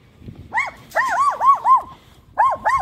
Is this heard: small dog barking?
yes